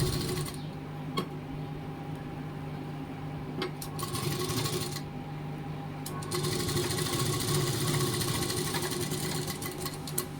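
A sewing machine stitches a puff-sleeve blouse sleeve, its steady mechanical whir running continuously with a few brief clicks, close and moderately loud, without talk.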